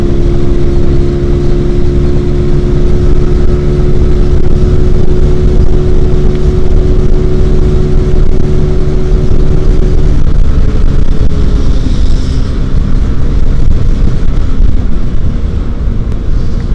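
A fuel-injected Yamaha Mio GT motorcycle engine revs loud and close, holding a steady droning pitch before the tone shifts and settles lower as the throttle changes.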